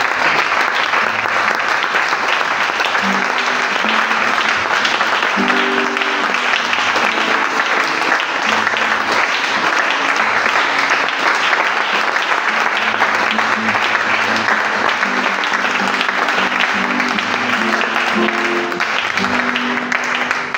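A church congregation applauding at length, a steady, dense clapping that goes on without a break, with voices calling out now and then over it.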